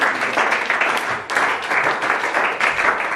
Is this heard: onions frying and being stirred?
no